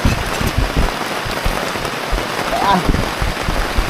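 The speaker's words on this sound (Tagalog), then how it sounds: "Grabe, lakas ng ulan mga kabugoy" Heavy rain pours onto a surface at a night camp, a dense, steady patter with no break, close and loud, with faint indistinct voices beneath it.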